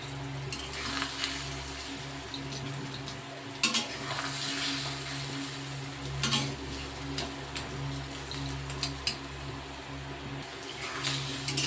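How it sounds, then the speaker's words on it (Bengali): Katla fish roe fries in a little oil over low heat, a soft, continuous crackling sizzle with occasional louder pops, heard close up under a steady low hum. "এরকমভাবে হালকা তেলেতে ডিমটা ভাজবে, ধিম আঁচেতে, না তো ডিম খুব ফাটে।"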